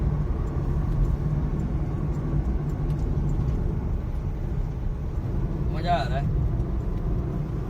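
A Honda City sedan cruising on a highway running on CNG, with steady cabin road rumble and engine hum under a voice speaking briefly.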